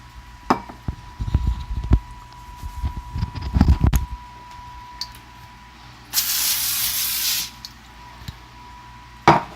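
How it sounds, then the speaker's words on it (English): Cooking spray misted from an aerosol can in a home kitchen before making meatballs, a single steady hiss lasting about a second, preceded by clattering of dishes and handling sounds, close and clear. "I just do a light spray"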